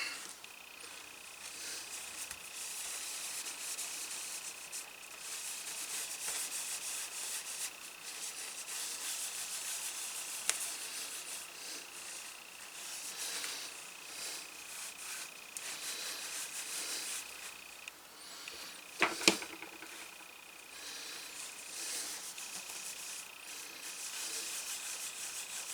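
A finish coat is rubbed onto a leather notebook cover with a steady, soft hiss of friction that continues nearly unbroken, close up and without talk.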